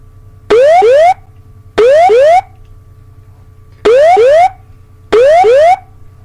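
A loud cockpit terrain warning alarm on Colgan Air Flight 3407 repeats in four bursts, each a pair of rising tones, with short gaps of low hum between.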